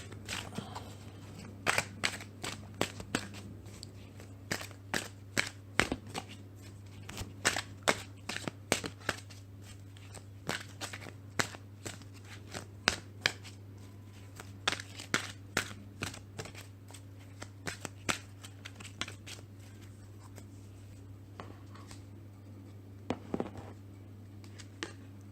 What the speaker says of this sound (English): I'm also going to pull an oracle card from the Wisdom of the Oracle deck